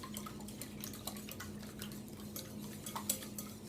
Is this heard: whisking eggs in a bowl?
yes